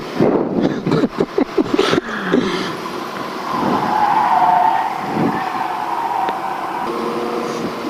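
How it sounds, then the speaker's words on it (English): Rental car's tires squealing on a racetrack at Dominion Raceway, with worn brakes and a revving engine; a burst of choppy tire and engine noise gives way to a sustained, loud squeal and drone, without talk. "I can't hear them because their damn tires are squealing so much."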